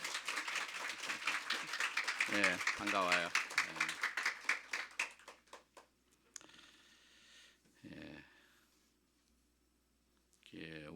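A church congregation at a special revival service claps in thanks, brisk rhythmic hand claps building for several seconds and then stopping, after which someone speaks briefly into the quiet hall.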